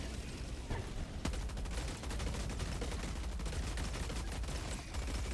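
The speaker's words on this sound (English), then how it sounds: "We're going to unload on him with the heavy machine gun" A heavy machine gun in Helldivers 2 fires in rapid, sustained bursts of sharp cracks, steady and dense for several seconds with no voices over it.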